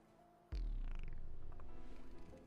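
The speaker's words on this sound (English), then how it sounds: "My cat is being very needy right now." A cat being petted purrs close to the microphone, a low steady rumbling purr that starts suddenly and continues evenly with a gentle pulsing rhythm, without any talking.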